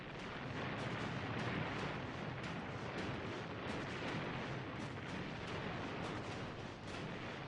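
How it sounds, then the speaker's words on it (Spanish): A massive Korean War artillery barrage roars in a dense, continuous rumble of overlapping blasts, loud and unbroken throughout. "Una explosión gigantesca."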